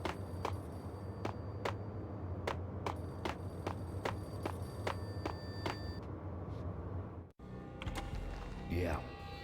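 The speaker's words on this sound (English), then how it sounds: "The payphone started to ring." Payphone in the game Max Payne ringing in a steady series of sharp, evenly spaced rings over a low hum, then cutting off abruptly as the handset is picked up, followed by a brief voice.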